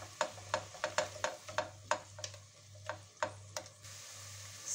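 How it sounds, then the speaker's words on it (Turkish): Onions and a little tomato paste frying together in a pan, with a faint sizzle under a series of sharp spoon taps and stirring clicks against the pan, close and without talking. "Çok az salçayı da kavuracağım."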